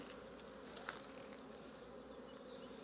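Honey bees buzz steadily during an early spring hive inspection, a continuous close droning hum with one brief louder pass near the start.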